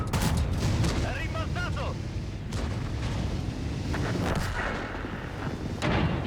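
In the tank game World of Tanks, on the Redshire map, several heavy booming gun shots crack out among rumbling battle noise, with impacts scattered across the stretch and a voice talking over part of it.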